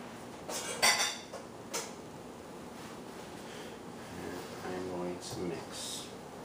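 Bread pudding ingredients for a blackberry and banana version are stirred together in a bowl, giving soft, irregular scraping and clinking with a few sharper knocks early on, while a voice talks in the background.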